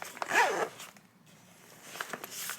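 A zipper on the front of an Alpaka Elements tech case draws closed in one quick, close pull of about half a second, followed by faint rustling of the case and a couple of soft handling clicks.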